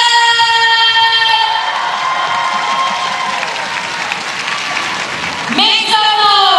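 At a SEA Games netball semi-final, the crowd cheers and applauds for Team Thailand in a loud, sustained roar of clapping and shouting, with an announcer's amplified voice ringing over it.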